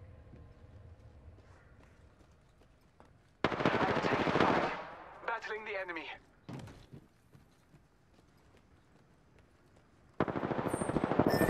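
Apex Legends gunfire in two loud bursts, one rattling volley early on and another at the end, with quieter footsteps and game sounds between them.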